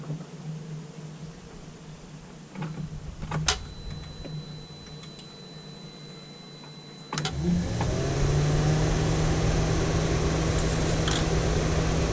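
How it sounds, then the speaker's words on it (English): A quiet idle with faint clicks, then a 2000 Volvo S70 engine cranks from stone cold and catches around midway, settling into a steady running hum up close. "just turn the key on, then start it"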